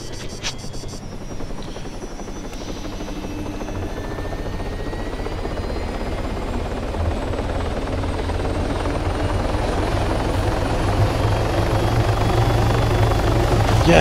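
A helicopter in the Altis Life video game lifts off, its rotor thudding steadily and its engine whine swelling louder and closer over the whole stretch, with no speech.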